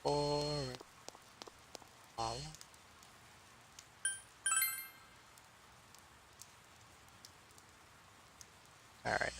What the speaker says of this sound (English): It's cold, snow, it's raining, it's pouring.